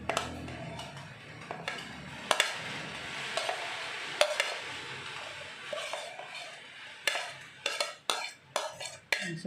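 Spring onions stirred into an egg mixture for homemade martabak telur: repeated scraping and clinking of a utensil against a bowl, with sharp irregular taps standing out, close and fairly quiet, no voices.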